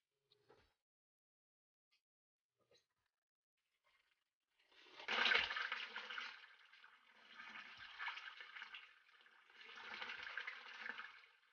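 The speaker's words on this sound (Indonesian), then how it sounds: "Kita mau lihat gimana sih proses mengalirnya air, berhasil atau enggak, kira-kira bocor atau enggak" Water pours through a homemade filter setup in three strong surges from about four seconds on, each a broad rushing wash, after a quiet start with a few faint knocks.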